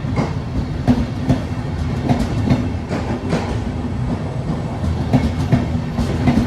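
A regional passenger train rumbles steadily alongside at a station platform in Venezia Mestre, with rhythmic clickety-clack of wheels over rail joints and a constant low roar; no voices.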